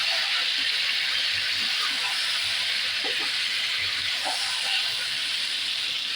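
Marinated chicken going into a pan of fried onions sets off a loud, steady sizzle and hiss that holds evenly throughout, with a few faint clinks over it.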